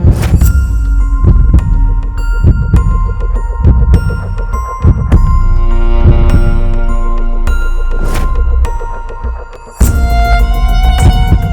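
Rhythmic heartbeat thumps pulse steadily beneath sustained humming musical tones, loud and close, with a short pause before the beat resumes.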